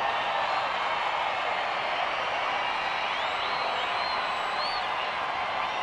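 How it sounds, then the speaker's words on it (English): Crowd noise at a Major League baseball game between Seattle and the Angels in Anaheim rises steadily, a broad, distant wash of many voices and cheering that holds at an even level throughout. "Crowd picking up."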